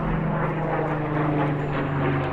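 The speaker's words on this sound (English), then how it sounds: "Never really noticed the planes because I've always lived close to Dulles" Steady, loud propeller airplane drone near Dulles Airport, continuous over a garden with no gaps and no one speaking.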